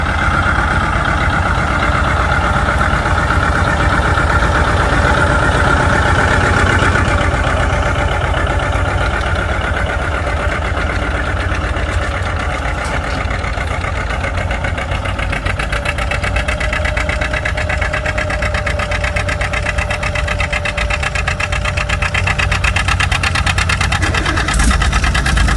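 An antique tractor engine idles loudly, steadily and close at a plow day, with a rough, even chugging rumble that holds throughout without a break.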